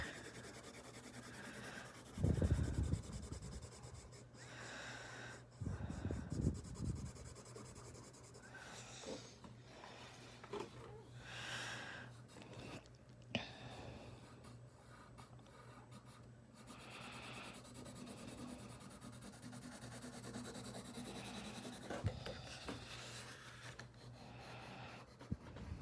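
A pencil draws and colours in on paper, giving soft continuous scratchy rubbing strokes that change with direction, with a few louder bursts of shading, close and quiet.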